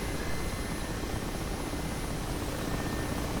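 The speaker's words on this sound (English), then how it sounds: "That is how you start up the Mi-8, ladies and gentlemen." Steady, dense rotor and turbine roar of a Mi-8 helicopter in flight in the DCS combat simulator, loud and constant with no voices over it.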